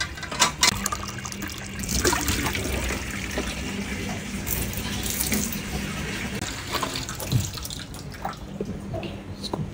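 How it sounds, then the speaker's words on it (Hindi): Water splashing and pouring steadily onto a floor for mopping at home, a continuous close wash of liquid with a few louder splashes and faint background noise. "पानी डालूंगी"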